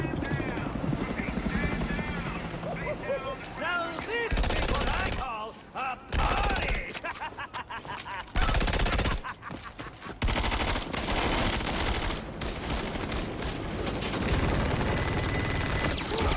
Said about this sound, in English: took you guys long enough to start shooting them